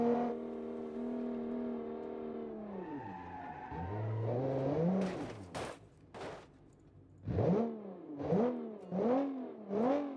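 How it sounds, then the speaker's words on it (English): An engine in a 1960s sports car within the Automation car-building game holds a steady drone, then sweeps through several rising and falling revs, finishing with four sharp blips of the throttle, loud and with no voices. "This engine just sounds kind of gross"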